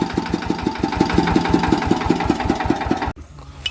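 Hand-crank-started tractor engine idling with a steady, close thumping beat, which cuts off abruptly near the end, leaving faint background noise.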